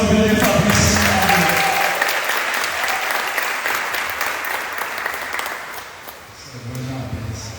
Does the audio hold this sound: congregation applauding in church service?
yes